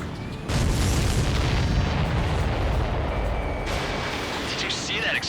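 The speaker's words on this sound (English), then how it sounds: "Did you see that explosion?" A heavy boom bursts in an Ace Combat 7 air-combat mission, opening into a long rumbling roar. Radio voices chatter over it near the end.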